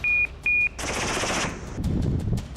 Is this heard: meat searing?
no